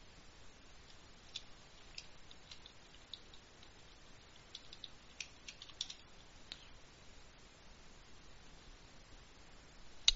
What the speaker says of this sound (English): can't even type my own password right